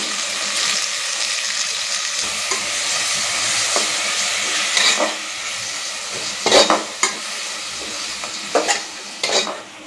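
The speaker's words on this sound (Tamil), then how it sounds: "இதோட பச்சை ஸ்மெல் போகிற அளவுக்கு நல்லா வதக்கிக்கோங்க" Ginger garlic paste and onion paste sauté in a pan for mutton biryani, giving a loud, steady sizzle with intermittent scraping stirs that rise in a few sharper bursts near the end.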